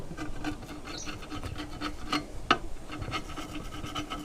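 Old silicone is scraped off aquarium tank glass in short rasping strokes, an uneven series of gritty rubs with a few sharper scrapes, close and fairly quiet with no talk.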